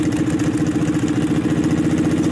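Racing lawn mower capable of 30 mph, with no wheelie bar fitted, its small engine running steadily with a throbbing, pulsing beat, close and loud throughout with no talk.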